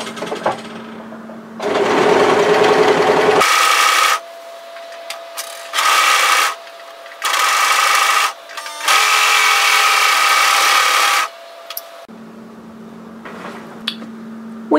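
A sewing machine runs a zigzag stitch along a robe seam in several short bursts of steady mechanical whirring, with quiet pauses between.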